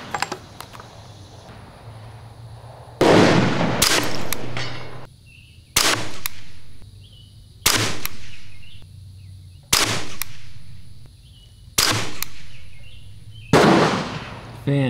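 A Bergara BXR carbon rifle firing subsonic ammunition lets off six loud, evenly spaced shots about two seconds apart, each a sharp report with a short decaying tail over quiet outdoor background.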